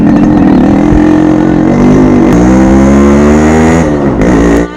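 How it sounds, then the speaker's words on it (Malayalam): A Yamaha RX motorcycle engine revs loud and close, a steady buzzing drone that rises and falls in pitch over a few seconds before dropping off at the end. "hi ആർഎക്സിന്റെ sound ഇതോടന്ന് കേൾക്കണ്"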